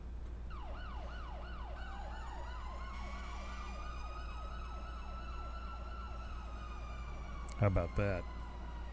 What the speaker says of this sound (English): Look at that fire truck. Let's hear the siren.